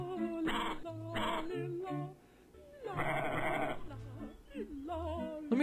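Cartoonish sheep bleats from a Teletubbies web game, several short wavering tonal calls in sequence mixed with musical notes, clear and moderately loud.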